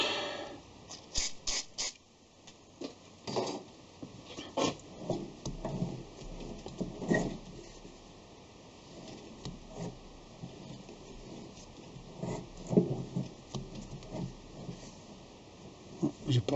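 A lathe or milling machine cuts an aluminium mallet part with a little lubricant, giving faint ticking, ratcheting mechanical clicks in irregular bursts over a quiet steady whine, with occasional soft speech.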